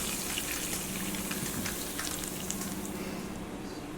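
Cheese cubes frying in a pan give a steady, close sizzle with scattered small crackles and pops, continuous throughout with no talk.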